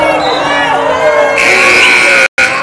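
A basketball crowd in Hutch shouts and jeers loudly after a foul call, a dense surge of voices that drops out for a split second before resuming.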